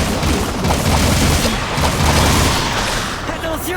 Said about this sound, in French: Tire, petit, tire.